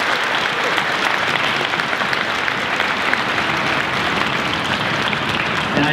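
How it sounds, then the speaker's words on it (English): An audience at a middle school honors band concert applauds steadily, a dense, even wash of clapping from many hands that holds for several seconds. "Please give them a round of applause."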